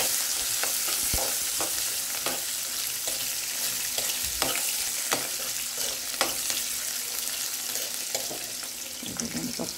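Carrot pieces fry in a hot pan with a steady, close sizzle that runs without a break, dotted with faint clicks and scrapes of stirring.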